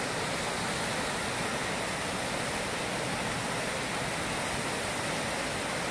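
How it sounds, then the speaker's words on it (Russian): Steady, dense rush of river water flowing through the Agara gorge beside a trout farm, a constant broadband roar with no other sounds and no talking. "на реке проточная вода"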